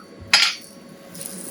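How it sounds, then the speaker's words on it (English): A hammer strikes hot metal during forging of copper, brass or stainless steel: one sharp, close clang leaves a thin, sustained metallic ring, followed by a fainter clink. "It's where you're hammering on the far end."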